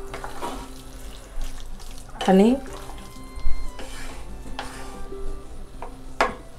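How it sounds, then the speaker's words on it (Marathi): Water poured from a tap onto a pot lid while chicken masala cooks, several short splashing pours with metallic clinks of the lid, under a brief spoken word. "थोडंसं पाणी घालणार आहे झाकणावर"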